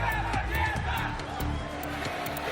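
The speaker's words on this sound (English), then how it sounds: "The roar of the crowd and the tension play their part." Dense crowd of fans roaring and cheering at a Wargaming.net League World of Tanks esports event in Kiev, a steady loud wash of voices with occasional sharper shouts throughout.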